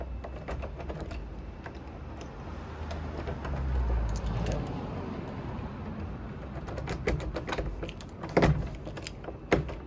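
Keys jangle while someone unlocks the door of a building's switch room during a plumbing call-out, heard as scattered metallic clinks and rattles over a rumbling background hum, with a sharper clatter near the end.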